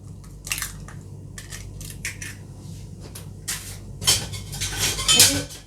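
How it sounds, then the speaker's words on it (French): A raw egg cracked against a bowl and dropped into melted butter for chocolate chip cookie dough, giving a few sharp close taps and clatters followed by a louder wet splat and scrape near the end. "On va venir casser l'œuf à l'intérieur."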